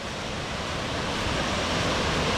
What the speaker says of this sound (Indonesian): Air terjunnya sudah kelihatan.